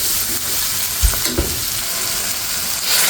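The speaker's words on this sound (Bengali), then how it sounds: "এই যে গরম জল দিয়ে দিচ্ছি।" Hot water goes into a pan holding dried loitta fish for an onion bhuna, producing a loud, steady hiss and bubbling, with a couple of low thumps of the pan or utensil and no talking.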